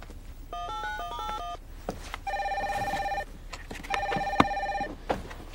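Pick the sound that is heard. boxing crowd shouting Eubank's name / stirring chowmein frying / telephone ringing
telephone ringing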